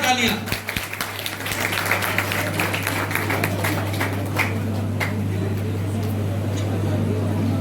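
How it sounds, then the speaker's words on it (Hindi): Loud, sustained applause fills a hall at the 16th foundation day ceremony of Raja Mansingh Tomar University in Gwalior, with dense clapping over a steady electrical hum and some voices in the room. "जोरदार तालियां।"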